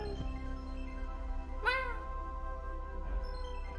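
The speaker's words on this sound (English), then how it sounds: "tiny baby meows in the background" A tiny kitten gives a single faint, high meow, with a softer second cry later, in the background under a steady low hum.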